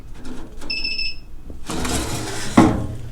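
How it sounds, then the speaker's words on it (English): A short electronic beep from a tire changer machine's sensor sounds as a few rapid pulsed tones, followed by louder broadband mechanical noise and a brief thump near the end. "It's going to beep once"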